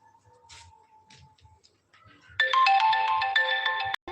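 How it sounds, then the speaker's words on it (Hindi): A phone ringtone bursts in partway through, loud and close, a bright repeating electronic melody that keeps ringing after a quieter stretch with faint background voices. "किसका कब से फोन आ रहा है?"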